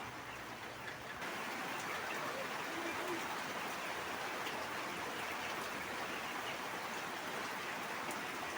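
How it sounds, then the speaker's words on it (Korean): Heavy rain pours down steadily on a farm in Cebu, Philippines, a dense, constant wash of noise that holds evenly from start to finish with no talk. "비가 너무 많이 오다 보니까"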